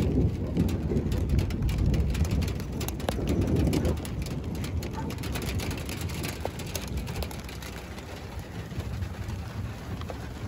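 Heavy rain falling outdoors at a dog agility show, a dense, steady hiss of drops that eases slightly after four seconds but keeps pattering throughout.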